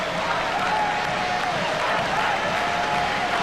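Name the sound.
stadium crowd cheering and applauding Sri Lanka's cricket victory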